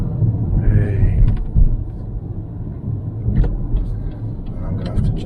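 A Lexus UX 250h hybrid moving off in heavy rain, heard from inside: a steady low road rumble mixed with a wash of rain noise and a few faint clicks throughout.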